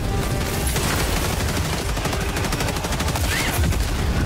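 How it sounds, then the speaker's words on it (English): Dense gunfire in the video game Helldivers 2, rapid overlapping automatic bursts and shots that continue loud and unbroken throughout. "What is it shooting at?"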